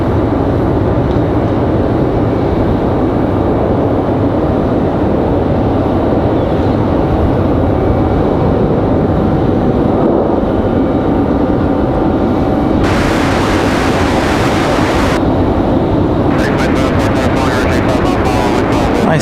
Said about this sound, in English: Nice touchdown for Republic.